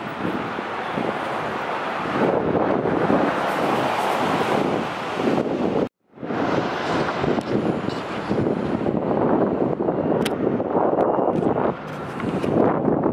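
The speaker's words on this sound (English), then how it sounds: "it's super windy" Strong wind batters the microphone in loud, continuous gusts outdoors during a Pokémon Go outing, with a brief lull midway and no talk.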